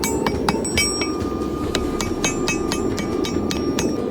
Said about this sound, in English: Light, fast taps all the way across as much surface area as you can.